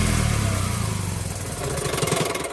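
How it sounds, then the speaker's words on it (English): A car engine with a rusted, broken exhaust bracket runs with a steady rumble and then winds down as it is shut off, loud and close, with no talking. "Look at how much the engine shakes when it shuts off."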